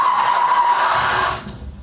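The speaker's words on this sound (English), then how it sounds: "listen to that little engine screaming its heart out" Ford Racing Puma engine screaming at high revs through a corner, a loud, steady strained howl with tyre scrub that drops away abruptly near the end.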